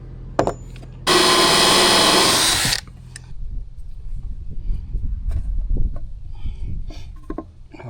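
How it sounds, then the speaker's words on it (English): A hole saw in a power drill whines loudly for about two seconds while cutting for a beer keezer build, followed by quieter knocks and handling. "So I'm going to drop back to the hole saw"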